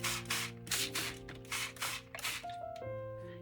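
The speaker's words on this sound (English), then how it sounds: "The first thing I want to do is spray the paper." Several quick hissing bursts from a spray bottle misting sheets of paper being prepared for staining, repeated in a steady rhythm up close with a low tonal hum running underneath.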